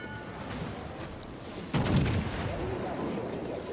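Secondary guns firing from the battleship Mikasa in World of Warships, a sudden loud gun report partway through over steady battle ambience, leaving a rumbling tail afterward.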